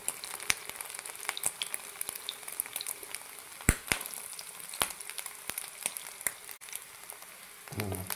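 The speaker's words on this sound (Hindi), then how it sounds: "ये देखें अब इस तरीके से आपने इसको फ्राई करना है।" Puff roll kababs fry in hot oil with a continuous close crackling sizzle, dotted with sharp pops and spits throughout.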